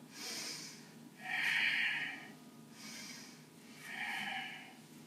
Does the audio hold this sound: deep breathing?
yes